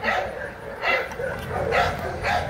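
Several dogs at a shelter fence bark in short bursts and whimper and yip between them, close and fairly loud, with a person's voice mixed in.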